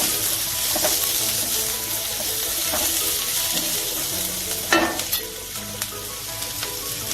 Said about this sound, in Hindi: इसी ऑयल में हम प्याज डाल देंगे।